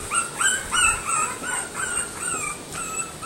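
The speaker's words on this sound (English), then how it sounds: "they're all running around whining because they can't find everybody" A litter of puppies whimpers and yips in a pen, high thin whines rising and falling in quick overlapping bursts, close and fairly steady throughout.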